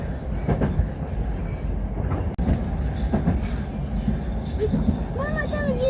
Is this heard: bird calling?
no